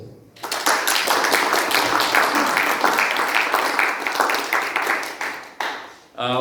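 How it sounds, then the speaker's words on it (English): Sustained applause from a ham radio contest meeting audience in Istra for the organiser Davor and his helpers, dense clapping filling the room for about five seconds before tapering off. "I think we can give Davor and his team of helpers a round of applause."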